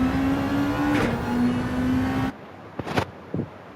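Gr race car at Fuji Speedway in Gran Turismo 7 accelerating flat out, engine whining high and steady, then cutting off abruptly into a few brief thumps and rattles.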